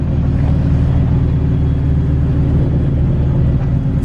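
A Whipple-supercharged Nissan 370Z drives with a loud, deep, steady engine and exhaust drone, a strong low harmonic rumble held throughout without voices.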